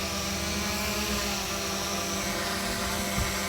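A DJI Mavic 2 Zoom drone's propellers spin up for takeoff with a dense, steady high-pitched whine and buzzing hum, close and constant with no talk.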